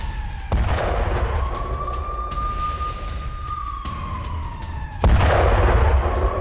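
Loud booms and cracks of a Hezbollah Falaq-2 missile attack and air-defense interceptions, with a long rising-then-falling siren-like wail running across the middle under heavy rumbling background noise.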